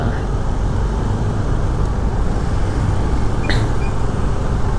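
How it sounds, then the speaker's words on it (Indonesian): Congested daytime traffic on a road in Seminyak, Bali: a dense, steady rumble of idling cars and buses up close, with a brief sharp hiss like an air brake midway. "Jalurnya macet ini"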